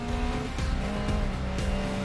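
Race car in the Grid Legends video game, a loud engine droning steadily with quick gear-shift dips and brief tire squeal, close and continuous.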